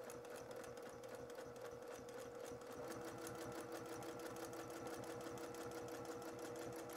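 Sewing machine free-motion stitching along fabric for a mummy-shaped pillow, a steady rapid mechanical chatter of the needle running continuously and close up, with no talking.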